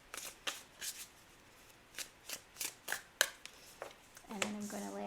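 Decks of tarot cards being shuffled by hand, a series of short crisp riffling bursts in a loose steady rhythm, close and quiet, with a brief voice near the end.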